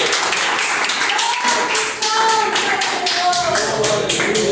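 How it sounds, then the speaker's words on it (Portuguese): A congregation claps in rhythm during an evening church worship service. The sharp, regular beats ring out close and loud beneath a voice speaking or singing over them. "as palmas são para agradecer o nome do Senhor"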